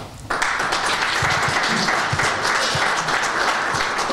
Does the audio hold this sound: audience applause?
yes